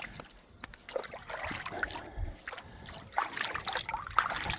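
Water is poured over a dog's fur outdoors on a walkway. It makes soft, irregular trickling and small splashes, fairly faint and close.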